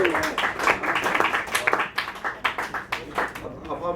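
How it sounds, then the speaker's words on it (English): Scattered, uneven clapping from a small audience after a musician's live set, with individual claps standing out and tapering toward the end. "give him a round of applause, please, for his set so far."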